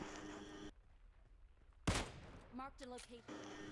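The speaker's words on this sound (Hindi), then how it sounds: "वहाँ मंदिर से निकलते ही यहाँ ये जॉर्जो सिटी साइड से फायर आती है" Gunfire in the mobile game PUBG Mobile, a sharp loud shot followed by a burst of quick mechanical tones, between stretches of game sound.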